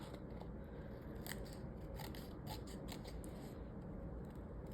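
Scissors snip through patterned paper while an envelope is being made, a run of crisp, close cuts over a steady low background hum.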